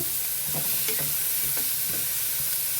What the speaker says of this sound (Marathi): थोडं तेल घालून घेणार आहे कांदा भाजायला